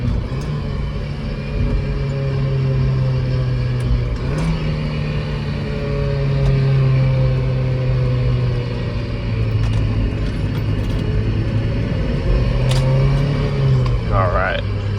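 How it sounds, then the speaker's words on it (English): A 1999–2005-era Mazda Miata NB, fitted with a short shifter, steady engine drone from inside as it drives and rolls through gears, pitch holding then dipping and rising with shifts; a voice talks intermittently over the running engine. "Roll through some gears here."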